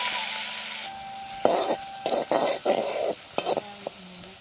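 Onions sizzle in a hot pan with whole cumin seeds, cooking for a Bangladeshi bamboo shoot curry, a steady frying hiss broken by several scraping stirs of a utensil, close and fairly loud.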